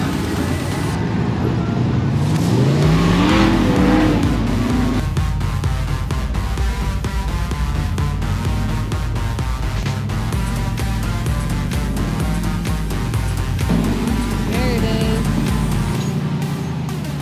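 An off-road vehicle crawls up a loose, brittle rocky trail at a hard-core off-road poker run near Parker, Arizona. The engine drones steadily and revs rise and fall, with rocks crunching underneath throughout.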